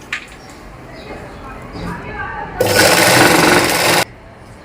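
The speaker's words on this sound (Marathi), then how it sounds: "अशा प्रकारे शिलाई मारून घेतली" Someone talks, then a sewing machine runs a short loud burst of rapid stitching, about a second and a half, along the hem of a readymade silk petticoat, close by, before stopping.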